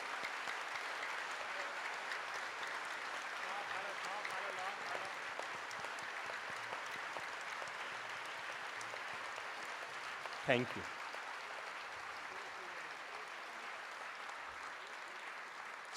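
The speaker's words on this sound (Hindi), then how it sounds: "बजाइए 30 सेकंड तक तबीयत से ताली जिन्होंने आज गुटके का त्याग किया है।" A large audience claps steadily for a long stretch at a spiritual discourse, dense sustained applause throughout with a brief spoken thanks over it partway through.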